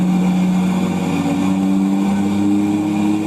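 A car engine roars at sustained high revs during a dyno pull, a loud steady drone with strong low harmonics held throughout.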